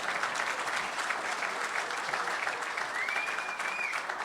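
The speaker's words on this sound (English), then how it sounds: "That's an applause line." Dense, sustained applause from an audience at a celebration event honouring a woman named Alice, a continuous even wash of many hands clapping together with no pause throughout.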